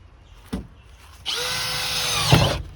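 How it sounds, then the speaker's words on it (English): A Bosch cordless drill on its heaviest setting bores a hole through a car floor, a sustained loud whine lasting just over a second after a brief knock, ending in a sharp thud as the bit breaks through. "But I'm going to drill a hole and show you guys how it works."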